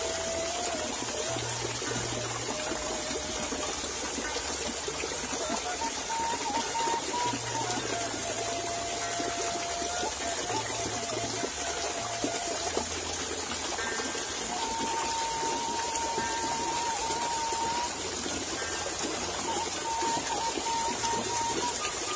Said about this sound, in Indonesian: Jadi hujan